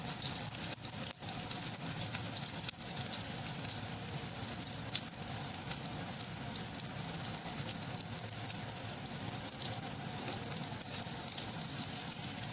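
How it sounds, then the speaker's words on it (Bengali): Chopped onions frying in hot mustard oil in a wok for Bengali aloo chop, giving a steady, even sizzle and hiss that runs unbroken throughout, alone, with no voices. "এবার কড়াইতে দেওয়া হচ্ছে কেটে রাখা কুচো করা পেঁয়াজ।"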